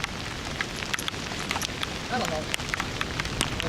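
Rain drenches a group of people waiting outdoors on a black sand lava field, a continuous close hiss of falling drops and patter, with a brief spoken voice partway through.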